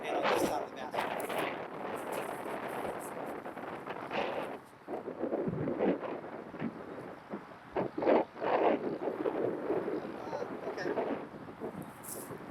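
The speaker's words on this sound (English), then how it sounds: "a strong wind going that way." Strong wind gusts outdoors on a disc golf course, a steady broadband rush with rising and falling surges that stays loud throughout the clip.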